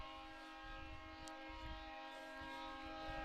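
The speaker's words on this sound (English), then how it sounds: "Train whistle. Another train coming through." Steady tonal whistle of a passing train heard from a high school baseball field, sustained and fairly distant over the full length, with low rumbling underneath.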